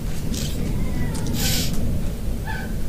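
A cat meows in The Joy of Creation video game, a few short, high, wavering cries over a dense, noisy game soundtrack with bright bursts of other sound.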